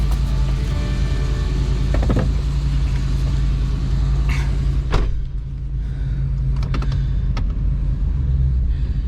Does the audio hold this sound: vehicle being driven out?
yes